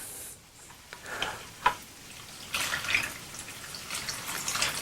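Water pours into a small hydroponics tank and its cups of beads, a close splashing trickle that starts with a few light drips and taps, then swells into a steady pour, with no talking.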